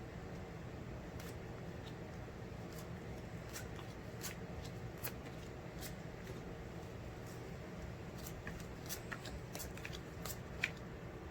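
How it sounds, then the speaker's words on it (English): Tarot cards are shuffled and laid out with a string of faint, crisp flicks and snaps at an uneven pace, close but very quiet over a low background hum, with no one speaking. "Just gonna lay out some of these cards here"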